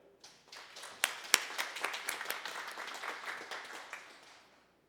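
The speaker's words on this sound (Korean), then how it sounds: "하나님께 영광을 박수를 올립시다." A church congregation claps together during a Sunday service, applause swelling quickly from a few early claps into a full, moderately distant round before tapering off and stopping after about four seconds.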